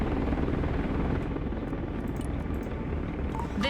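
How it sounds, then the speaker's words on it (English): Mi-26 heavy transport helicopters arriving in the strategy game Broken Arrow, a steady loud rotor roar that holds throughout with no voices. "The Mi-26 helicopters are here."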